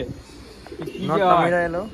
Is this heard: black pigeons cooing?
yes